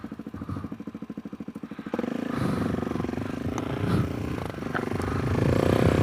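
A Suzuki DRZ motorcycle on the ride home, its engine chugging in a steady rhythm before swelling into a louder, continuous roar as it accelerates, with wind rush building toward the end.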